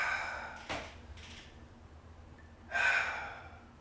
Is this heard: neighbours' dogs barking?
no